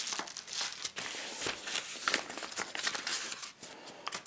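A paper envelope of playing cards is torn open and handled close up, with repeated crinkling, tearing and rustling bursts in an irregular rhythm.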